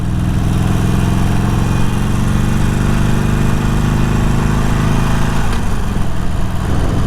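A 48 motorcycle engine drones loud and continuous on a canyon ride, its low, steady note shifting near the end as the bike is put back in gear after coasting, with no talking.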